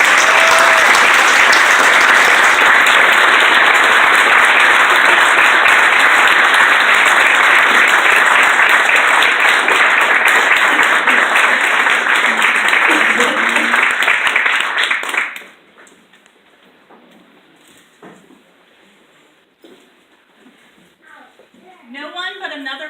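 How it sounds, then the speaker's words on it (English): Loud sustained applause from an audience at an Eagle Scout Court of Honor for Troop 556's first two Eagle Scouts, steady for about fifteen seconds before cutting off to a quiet room with faint rustling. "Give them a round of applause."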